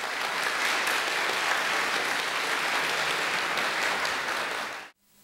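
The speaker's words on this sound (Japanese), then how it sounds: "皆様もう一度大きな拍手をお送りください。" Sustained audience applause fills an awards ceremony hall, dense and steady from many hands, then cuts off abruptly near the end.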